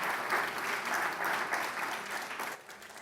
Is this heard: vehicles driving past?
no